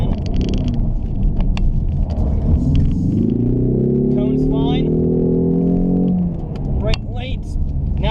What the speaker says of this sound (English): We actually revved it properly, so the turbo kicked in.